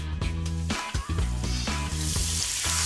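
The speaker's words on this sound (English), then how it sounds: "add olive oil to a hot frying pan" Olive oil sizzles and crackles steadily in a hot frying pan, with a few louder bursts and a faint clatter as mushrooms are moved around.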